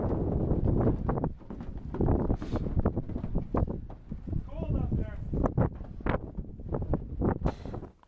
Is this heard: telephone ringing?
no